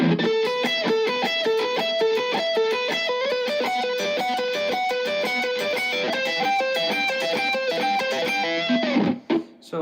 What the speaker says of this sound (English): And when you add up distortion to this,